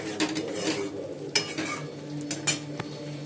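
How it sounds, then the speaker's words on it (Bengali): Chicken sautéing in a pan for a Bengali kosha curry, with steady scraping and clinking of a spatula against the metal and a faint sizzle underneath, close and continuous. "চিকেনটাও বসিয়ে দিয়েছি, এখন কষানো হচ্ছে"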